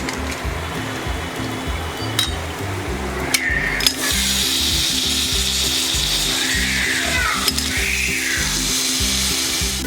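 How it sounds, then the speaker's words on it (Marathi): Crabs frying in Malvani masala, with a steady loud sizzle under a constant droning hum, plus occasional clinks of a utensil against the pan. "हे बघा खेकडे आता आपण त्या मसाल्यामध्ये घालून घेऊया."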